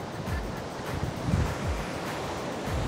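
Big ocean waves break at Bali's Bare Point surf break, a continuous roaring wash of surf with rising surges and wind buffeting the microphone, loud and steady throughout.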